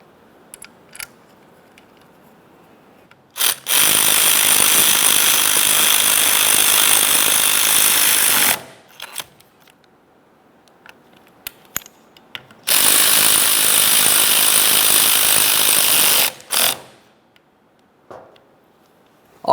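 Mounting bolts being run into a new steering column shift clamp bracket on a 2001-2005 Ford Explorer with a power tool, in two loud, sustained bursts of several seconds each, separated by quiet handling noises.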